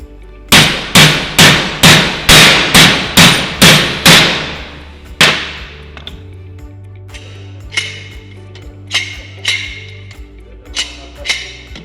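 Metal hammer blows strike a part while a surface drill head is assembled, a fast run of about eight loud, evenly spaced ringing hits followed by a gap and then scattered, quieter taps, with no voice.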